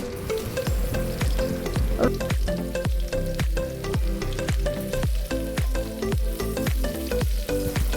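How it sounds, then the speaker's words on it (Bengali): Crushed garlic and dried red chillies fry in oil, with a loud bubbling sizzle under a fast, regular run of spatula scrapes and knocks against the pan, about two per second, with no talking. "এগুলোকে একটু লাল করে ভাজতে হবে"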